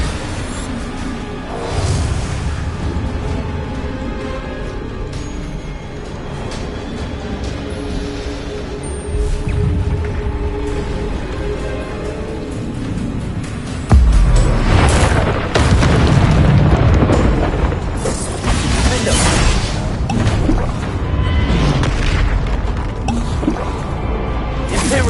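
Bombarda blasting spell explosions in the Hogwarts Legacy video game, heavy booming bursts over a dense rumbling mix of game effects and music, with the loudest, fullest blast hitting around the middle and sustained crashing activity afterward.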